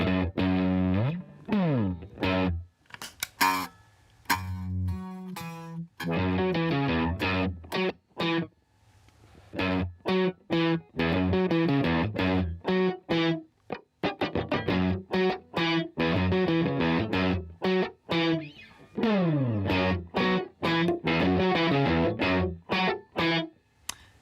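Electric guitar chords and single notes ring out with a washy, lingering reverb tail, played in bursts with short pauses between phrases.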